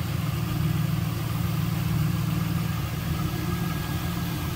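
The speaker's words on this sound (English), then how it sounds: "you can hear this run, good sounding car, like I said, got a nice little throaty exhaust note on that" A 2002 Pontiac Firebird Trans-Am WS6 V8 idles steadily with a deep, throaty exhaust rumble, continuous and even throughout, close by with no talking.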